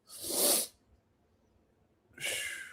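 Two sharp, breathy sneezes, each a loud hissing burst about half a second long, separated by a second and a half of near silence.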